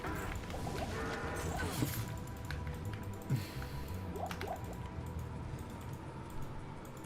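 Water drips and splashes from a fully thawed line, likely an air-conditioning unit, with scattered wet squishy drops landing over a steady background hum, a few sharper drips standing out, no voices.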